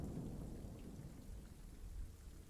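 Steady heavy rain pours down with low rumbling thunder underneath, a continuous dense wash of sound with no voices.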